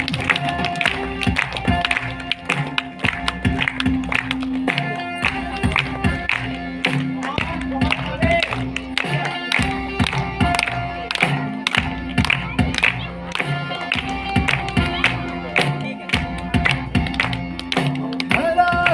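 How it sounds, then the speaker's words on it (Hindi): An audience claps along to encourage children performing a song, with sharp rhythmic hand claps and crowd noise over loud music and singing. "बच्चों को प्रोत्साहित करिए, ताली बजाइए जरा"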